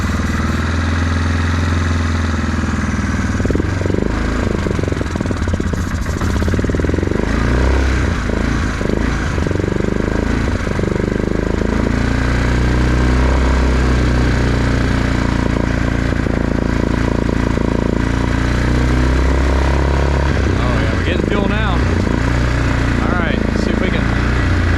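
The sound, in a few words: engine running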